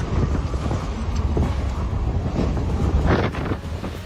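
Strong wind during a destructive natural disaster roars and buffets the microphone, a loud continuous rumble with gusting surges throughout.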